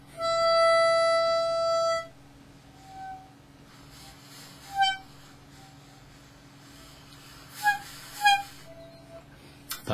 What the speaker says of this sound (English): You might get some odd squeals coming,